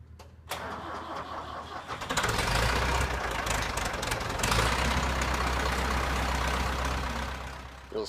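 A dairy farm tractor fitted with winter tire chains cranks and catches, then its diesel engine runs up to a loud, rough, steady idle close by in cold weather.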